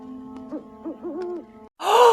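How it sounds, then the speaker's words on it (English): An owl hoots in a Twin Peaks scene, a series of rising and falling soft tones repeated four times, clear and moderately loud, followed by a sudden burst of broadband noise. "An owl."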